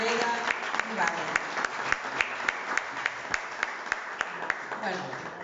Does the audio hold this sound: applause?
yes